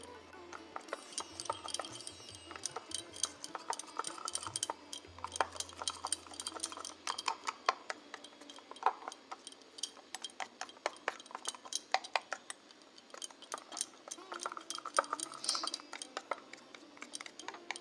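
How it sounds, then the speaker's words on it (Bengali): A utensil beats jhuri bhaja batter mixed with hot oil in a bowl, giving rapid, irregular clinking taps against the bowl that go on steadily, with a low hum underneath at the start. "গরম তেলটা দিয়ে এবার আবার ভালোভাবে ফেটিয়ে নেব।"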